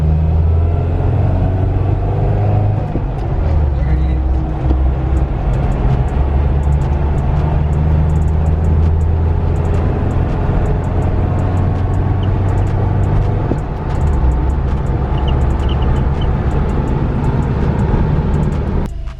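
First-generation Toyota 4Runner engine running at about 2,000 RPM while driving, heard from inside as a steady loud low drone and rumble with some road noise, no talking.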